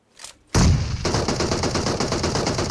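Loud automatic gunfire in PUBG Mobile, a fast rhythmic burst of close shots kicking in abruptly after a brief quiet moment and running continuously.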